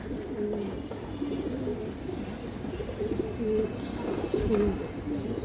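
Soft, repeated pigeon coos roll along in a steady low rhythm, close by, with a faint rustle of other birds in the background.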